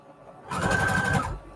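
A sewing machine runs a brief straight stitch on book paper, a quick steady whirring and clattering burst of about a second, close and alone.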